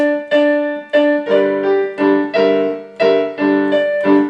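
Piano notes in a steady rhythm from a piano lesson, with low bass tones under higher repeated chords, both hands playing together; clear, close and alone.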